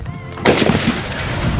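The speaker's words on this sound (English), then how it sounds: "They're shooting." Gunshots ring out on a range with steel targets: a loud, close, sharp report bursts in, then echoing blasts and clatter follow in quick succession.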